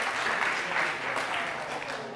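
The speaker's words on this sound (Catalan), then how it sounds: "Aplaudiments, sí, podeu aplaudir." Audience in a Catalan spelling quiz show clapping, a short burst of dense, even applause from a crowd, steady throughout.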